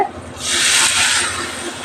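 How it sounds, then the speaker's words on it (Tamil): A loud sizzling hiss swells as water hits a hot pan of eggplant cooking in oil, holding steady then easing off slightly, close up. "இப்போ தண்ணி சேர்த்துக்கிறேங்க"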